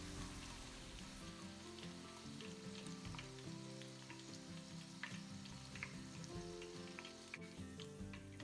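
Green chili peppers stir-fry in a pan with a continuous soft sizzle and scattered crackling pops, quiet and steady, with no voices.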